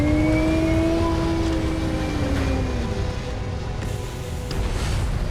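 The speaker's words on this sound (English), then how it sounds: "Engines firing. Here we go." Spaceship engines fire for takeoff in the Starfield video game, a loud, sustained roaring rumble with a falling whine that holds steady for several seconds, with no speech.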